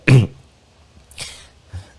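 A sharp, loud cough up close, followed by two softer, rougher coughs trailing off in a quiet room.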